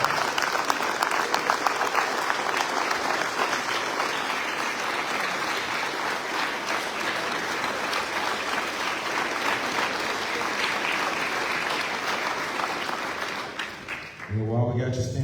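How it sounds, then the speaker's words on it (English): Audience at a US Navy retirement ceremony applauds Senior Chief Petty Officer Khyim Bona with long, loud, sustained clapping that fades near the end as a voice begins speaking. "give KB a round of applause"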